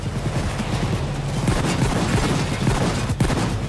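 Rapid gunfire fills a Payday 2 heist shootout, a dense loud volley of overlapping shots and bursts with no pause throughout.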